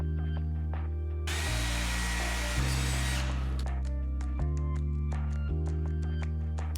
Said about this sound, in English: drill a hole in the tip